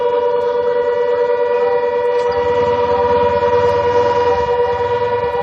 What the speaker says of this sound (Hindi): हम सायरन की आवाज सुन भी पा रहे हैं